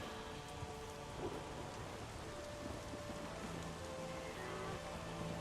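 Storm in the video game The Witcher 3: steady, dense rain hiss with low rolling thunder underneath and faint sustained tones, continuous throughout.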